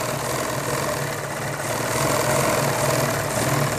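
Sewing machine stitching a folded half-inch hem on fabric for men's underwear, a steady continuous mechanical hum and rattle running throughout at fairly close range, with no talking.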